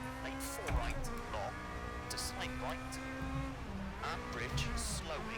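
A rally car in the EA WRC racing game: its engine revs rise and fall through gear changes, with tire squeals at intervals, steady and up close throughout.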